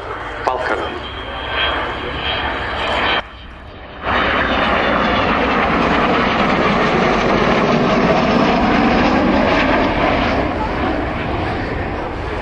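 An Avro Vulcan jet bomber passing at an airshow, a loud rising roar that swells and holds, with an announcer talking over it.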